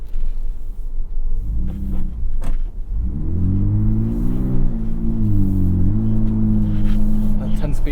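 A 2022 Ford Bronco Raptor with a 10-speed transmission accelerates hard, its deep engine rumble rising and dropping through several quick gear changes, with voices heard early on.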